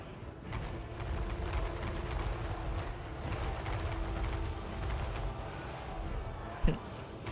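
Artillery fire on enemy packs in the strategy game Total War: Warhammer III, a steady dense rumble of distant booms with one sharper blast near the end, no voices.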